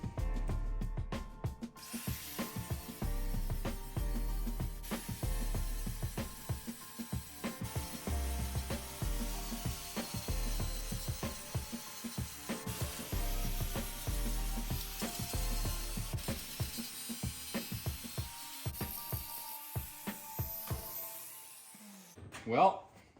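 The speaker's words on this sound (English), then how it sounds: "Guess we got a little bit of grinding to do." A worn, gouged disc harrow shaft is ground down for repair, with steady grinding broken into a quick, repeated rhythm of bursts and pauses, close and fairly loud, ending in a brief louder scrape.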